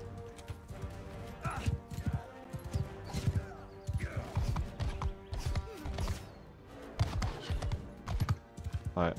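Horse hooves clip-clop in Mount and Blade II Bannerlord during a siege, irregular thumping steps mixed with other game sounds in bursts.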